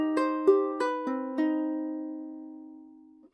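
A ukulele picks out the third riff of a lesson: five clear plucked notes in quick succession, the last ringing out and slowly fading, played alone and close up.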